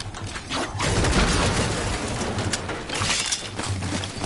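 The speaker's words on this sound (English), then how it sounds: "Gunshots." Rapid bursts of Fortnite gunfire rattle continuously, loud and close, with dense cracking shots and no talking.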